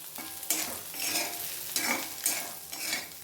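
Fried bitter gourd with chili and coriander powder is stirred in a pan, rhythmic scraping strokes over a continuous close sizzle, each stroke bringing a louder burst of crackle.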